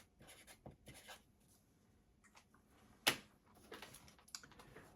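Pen or pencil scratching on paper during comic book conservation work, several short quiet strokes with pauses between them and one sharper tap near the middle, close and faint.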